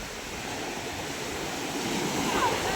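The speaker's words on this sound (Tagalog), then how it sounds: "Malalaki ang ating alon mga kamay." Large sea waves crash and surge at a fish terminal in Tanza, Cavite during a typhoon, a continuous loud roar of surf and spray with wind, with rain falling and a voice talking over it.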